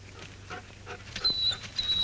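Injured, limping dog whimpering, a few soft close whines and high thin yelps rising over a quiet background, brief and intermittent.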